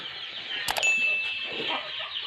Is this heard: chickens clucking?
yes